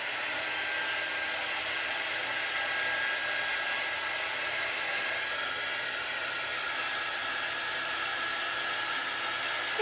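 A hair dryer blows steadily up close to dry paint on a handmade gnome sign, a continuous even whoosh that holds for the whole stretch without a break.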